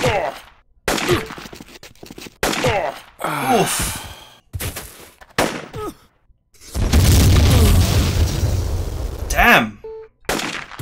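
A mortar explosion goes off in the turn-based tactical game Jagged Alliance 2, a loud, sustained blast and rumble in the latter half, with short bursts of game voice lines and gasps heard before it.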